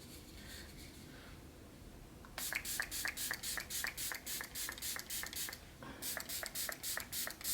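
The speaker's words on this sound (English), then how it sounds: "Now I'm going to spray with the Juvias Place setting spray." A Juvia's Place makeup setting spray is pumped in quick bursts: a rapid run of about a dozen short, hissing mists, a brief pause, then several more close-up pumps.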